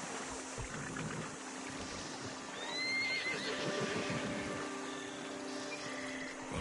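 A horse whinnies once, mid-length and somewhat distant, over steady outdoor ambience with faint rumbling.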